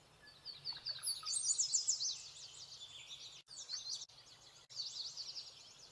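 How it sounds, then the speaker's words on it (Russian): Forest birds sing and chirp in bright, rapid trills in spring woods, several overlapping songs at moderate distance against a quiet outdoor background, with brief pauses between phrases. "радостное пение лесных птиц"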